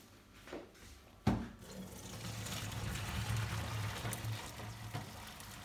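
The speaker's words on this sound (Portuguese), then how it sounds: "vou escorrer essa água aqui" Hot water from boiled potatoes is poured off in a kitchen for mashed potatoes, starting with a sharp clunk and then a continuous, soft trickling pour.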